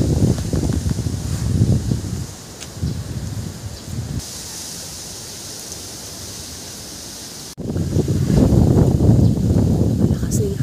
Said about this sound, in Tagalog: Naririnig ba yung hangin?